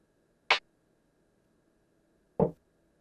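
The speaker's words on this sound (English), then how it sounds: "that is a guitar effect" Two short, sharp synthesized guitar-noise hits from an XV5080 synthesizer's internal waveforms sound alone about two seconds apart, each a dry knock-like burst that cuts off quickly.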